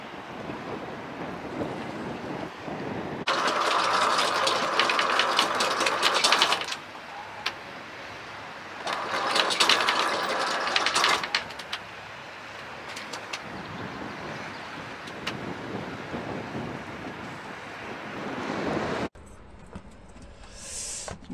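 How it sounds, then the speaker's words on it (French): A sailboat drops its anchor in deep water off Guadeloupe, with two long bursts of loud, rattling chain running out, separated by quieter stretches of wind buffeting and waves lapping against the hull. "On est en train de jeter l'ancre et ce n'est pas évident parce que c'est très profond"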